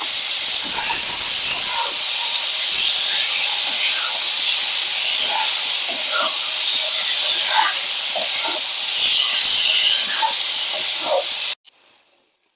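Prawns with tomato, chopped coriander and ginger-garlic paste sizzling in a pan for a Bengali ridge gourd curry, a loud continuous hiss with small crackles and pops that cuts off abruptly near the end.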